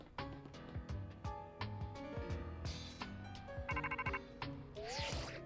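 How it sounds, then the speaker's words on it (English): Electronic phone ringtone chiming in the video game Pokémon Legends Z-A, a melodic tonal jingle over quiet game music, clear and alone. "Really? A phone call?"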